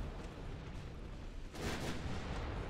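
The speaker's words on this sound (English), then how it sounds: "Torpedo detonation, even." A torpedo detonates in the naval warfare game Ultimate Admiral Dreadnoughts, a deep, muffled boom that swells midway over a constant low rumble of battle, with no talking.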